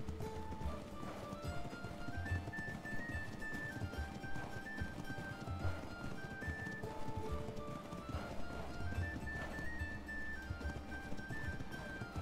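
Hooves clip-clop at a steady trot in the survival video game Ark, a faint rhythmic patter under tonal background music with occasional whinny-like sounds.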